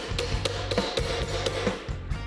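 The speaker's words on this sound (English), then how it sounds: "make a little dolly tool that we can hammer the thing back into shape with" A hammer strikes a dent out of a car body panel against a makeshift dolly, a rapid series of sharp metallic taps at close range, roughly evenly spaced.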